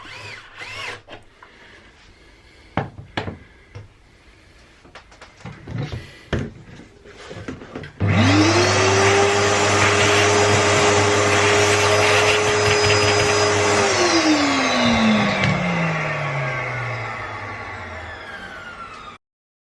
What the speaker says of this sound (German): Das mache ich mit einem Forstner-Bohrer mit Längenanschlag.